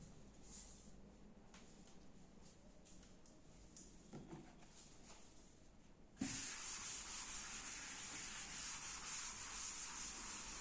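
Writing being rubbed off a board during a maths lesson, a loud, steady, close scrubbing rasp that starts abruptly partway through after a stretch of quiet handling noise.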